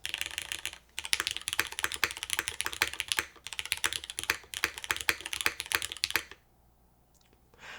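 A gasket-mount mechanical keyboard with single-sided gaskets is typed on in quick, bright, clacky strokes, close and clear, for about six seconds before stopping into near silence.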